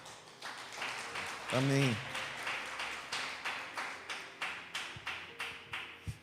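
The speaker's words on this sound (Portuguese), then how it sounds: "Pode dar uma linda salva de palmas ao Senhor" Church congregation applauding, a steady rhythmic clapping that settles into an even beat, moderately loud, with a voice speaking briefly near the start.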